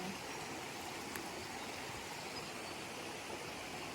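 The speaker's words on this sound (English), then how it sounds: "babbling brook" A babbling brook along the Appalachian Trail gives a steady, soft, even wash of flowing water throughout, faint and unbroken, with no talk.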